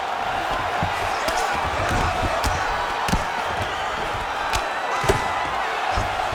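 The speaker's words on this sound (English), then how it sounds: "Oh, huge pop from the crowd as the fighters get back up to their feet." Arena crowd in the video game UFC 5, a continuous loud roar of cheering with scattered sharp impacts throughout, no talk.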